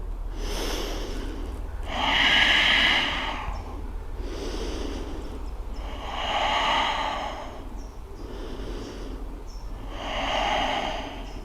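Slow, deep nasal breathing in a yoga forward-fold pose, three long, steady, close breaths, each a rushing inhale swelling and fading with quiet pauses between.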